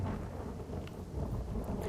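Thunder rumbles low and continuous under an overcast monsoon sky, a dull rolling boom with faint rain hiss on top.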